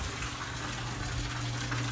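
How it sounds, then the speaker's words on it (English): Water from an outdoor courtyard fountain pours steadily in a continuous broad rush, close and constant, with no voices. "Love the fountain out front. Peaceful sounds of water is really, really nice."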